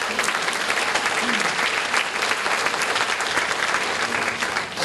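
Church congregation applauding, a sustained dense clatter of many clapping hands that holds steady and fairly loud throughout, with no one talking over it.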